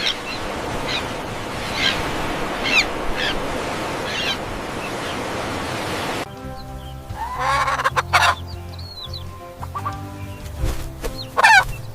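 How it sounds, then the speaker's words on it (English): Rooster crowing and clucking over a busy background of other bird calls, then a separate sequence of sharper fowl calls and chirps against a quieter backdrop. "Rooster, rooster."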